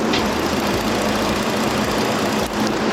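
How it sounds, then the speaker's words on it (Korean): A gasoline car engine idles with the hood open, recorded up close. It gives a steady, even hum with a faint mechanical rattle, heard alone without talk. "휘발유 엔진을 탑재하고 있는 만큼 차량 엔진 소음도 조용하고"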